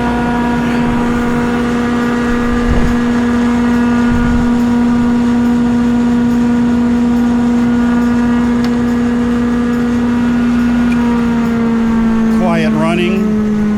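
A Northfield 16HD 16-inch jointer runs at steady speed after startup, a loud, even motor hum with a constant tone and no change in pitch, while a voice speaks briefly near the end.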